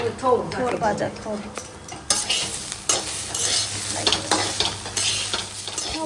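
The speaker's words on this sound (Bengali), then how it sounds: "এই যেটা হচ্ছে ভাড়ালি ভাজা সব" Banana stem frying in a pan is stirred repeatedly, with scraping spatula strokes and metallic clanks over a steady, close sizzle.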